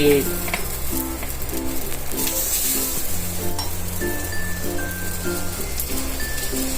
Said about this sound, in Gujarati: તેલ લગાવી લઈ અને તમે આને સેલો ફ્રાય કરી શકો છો